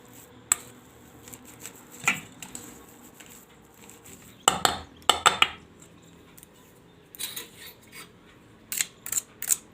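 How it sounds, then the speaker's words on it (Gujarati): Boiled potatoes being mashed and mixed in a bowl, irregular bursts of scraping, knocking and clinking utensil strokes against the bowl, separated by quiet pauses, close and without speech. "આ બટેટા છે એને આ રીતે આપણે માવો બનાવી લઈશું, આનો એકદમ મિક્સ કરી લેવું।"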